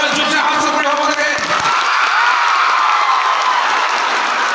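An award ceremony audience in Jorhat bursts into loud, continuous applause mixed with cheers and whoops from the crowd.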